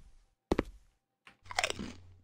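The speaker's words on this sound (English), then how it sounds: "Sounds like I don't know what it sounds like I'm eating, but it's crunchy" Crunchy chewing and biting from a horror video game, heard as two close bursts of crisp crunching separated by a short silence, loud and near with no talk.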